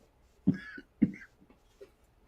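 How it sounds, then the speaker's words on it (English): Two sharp coughs in quick succession, followed by a softer cough, close and fairly quiet in an otherwise still room. "I don't think I've ever seen anybody cough that much."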